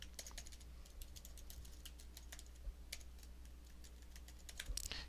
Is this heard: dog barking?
no